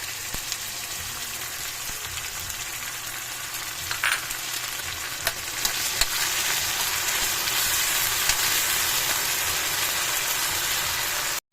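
Steady, dense sizzling of sardines frying in a pan, a broad hiss that holds throughout with a few small pops and clinks.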